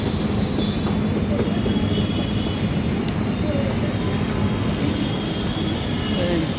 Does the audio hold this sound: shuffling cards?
no